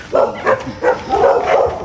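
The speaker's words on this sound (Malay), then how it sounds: "berdepan sikit ada anjing tu" A dog barks several times in quick succession on a dark hillside at Bukit Cina, close and fairly loud, with short yips between the barks. No one speaks over it.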